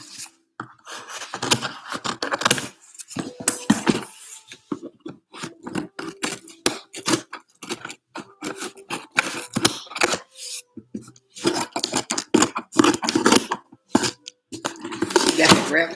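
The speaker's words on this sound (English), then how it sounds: "let me cut this open" Scissors or a blade cut and rip through the wrapping of a package, producing irregular bursts of crinkling, snipping and rubbing with short pauses, close up, alongside occasional speech.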